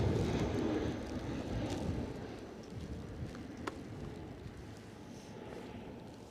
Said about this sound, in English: I'm just going to let this ATR go past